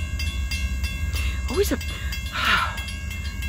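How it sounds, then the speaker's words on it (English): Freight train CSO-4 rolling northbound near Hayden Station Road between Hartford and Springfield, a steady low rumble of rail cars under a constant broad wash of noise, with brief voices and calls cutting in over it. "All I know is, here comes CSO-4 now."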